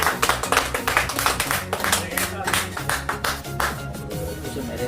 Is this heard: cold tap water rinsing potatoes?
no